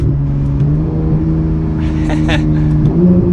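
A Porsche 911 GT3 of the 991 generation with a PDK gearbox accelerating hard, its engine a loud steady drone heard from inside the cabin that climbs in pitch near the end.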